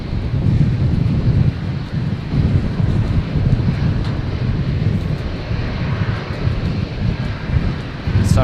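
Strong wind buffeting a microphone at Brisbane International Airport, a continuous low rumbling roar with gusty swells, mixed with a distant aircraft engine drone.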